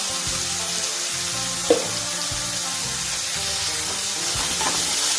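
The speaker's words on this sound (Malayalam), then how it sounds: "നന്നായിട്ട് തന്നെ ഇളക്കി കൊടുക്കാം." Onions and curry leaves frying in a pan, a constant bright sizzle with a few soft stirring clunks, close and steady with no talking.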